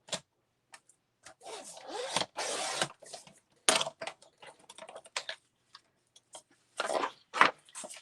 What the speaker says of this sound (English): So I'm going to trim this border here.